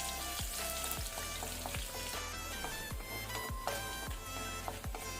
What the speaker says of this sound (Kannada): ಈಗ ಇದನ್ನು ನಾವು ಲೋ ಫ್ಲೇಮಲ್ಲಿ ಸ್ವಲ್ಪ ಫ್ರೈ ಮಾಡಿಕೊಳ್ಳುವ.